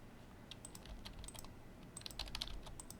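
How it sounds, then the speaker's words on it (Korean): Keystrokes on a computer keyboard during web coding work, with soft, close clicks arriving in short irregular bursts that grow busier toward the end, quiet and without speech. "알파벳 O를 눌러서 보면은"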